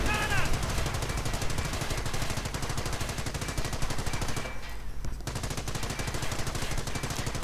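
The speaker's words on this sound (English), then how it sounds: "Half-track slowly losing health to this machine gun emplacement." Machine gun emplacement in a strategy video game firing long, rapid, continuous bursts of gunfire with a steady rattling rhythm, loud and dense, with a commentator talking over it.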